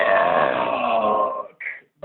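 A man lets out a long, loud, drawn-out belch that fades, followed by a couple of short, separate burps, close and alone.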